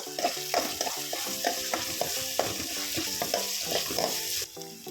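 Green chillies frying in a pan for vegetable upma (uppitu), a continuous sizzle with a rhythmic scrape and clatter of a spoon stirring.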